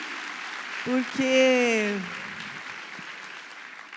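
Applause from an audience at a married couples' church gathering, cheering for engaged couples. It sounds fairly distant and sits under a man's speech, with one short vocal exclamation in the middle.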